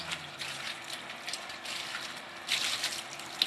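Tap water runs steadily from a faucet while drinking glasses are rinsed under it, a continuous hiss and splash that swells louder near the end, with no talking.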